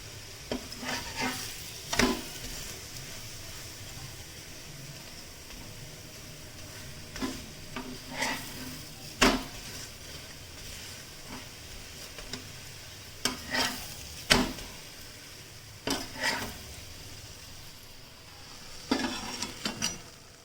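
Layered lachha paratha fries in oil on a pan with a soft steady sizzle, broken by sharp scraping and tapping strokes of a spatula at irregular intervals, close and alone.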